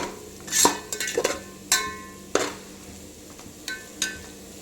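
Utensil stirring potatoes with masala in a pot for alu dum biryani, a few separate clinks and scrapes spaced through the quiet, fairly close, with no talk.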